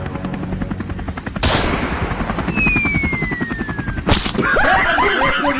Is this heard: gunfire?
yes